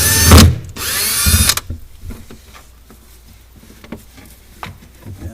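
A power drill whirs loudly in two short bursts, backing cover screws out of a Sub-Zero 700BFI-2 refrigerator, followed by quieter clicks and handling of parts.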